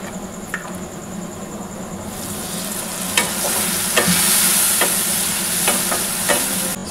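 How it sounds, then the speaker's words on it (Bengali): Dhaba-style egg tadka masala stirred in a pan, a steady sizzle with repeated spoon scrapes and clicks against the metal, growing slightly louder midway, no talking. "সব কিছুকে ভালো করে মিশিয়ে নেব"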